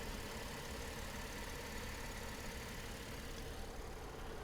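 A car engine idling quietly at a salvage auction lot, a steady low even hum without shaking or knocking, continuous and fairly faint with no voices.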